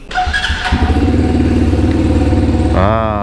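A single-cylinder KTNS TT150 Classic motorcycle engine chugs at idle with a steady, loud, close thumping rhythm and mechanical clatter, revving briefly near the end.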